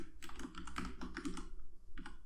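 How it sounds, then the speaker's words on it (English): Computer keyboard typing during a Unity coding session for an Oculus 360 photo viewer, a close, busy run of rapid key clicks with a brief pause before a final burst. "as I'm typing this out"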